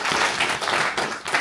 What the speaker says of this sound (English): So I would like to give a round of applause to all the guys.